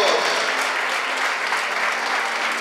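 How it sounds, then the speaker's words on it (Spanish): A church congregation at an evening service applauds for Jesus, filling the room with loud, dense and sustained clapping, with no distinct voices above it. "Fuerte el aplauso a Jesús."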